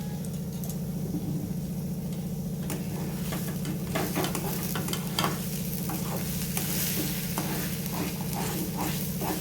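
Ground cumin and chili powder sizzle in hot oil in a wok, a steady frying hiss broken by scraping stirs and light clinks, close and continuous with no talk.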